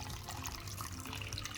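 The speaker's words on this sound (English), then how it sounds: "Quarter teaspoon of salt, 300 milliliters of water." Water poured into a lemon meringue pie filling being mixed with salt and a spatula gives a brief, faint, steady pouring and trickling sound, with no talking.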